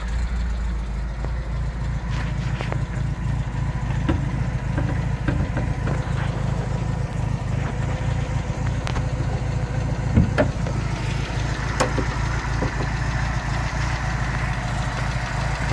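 An MGB GT's standard 1.8-litre B-series engine with twin SU carburettors idles steadily and loudly up close, a low, even rumble with faint mechanical ticking and a few sharp clicks heard over it.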